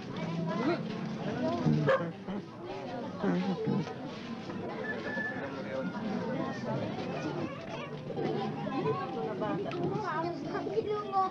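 A dog barks in short bursts and lets out whimpers and yips among people chatting and talking nearby, with voices and barks overlapping throughout.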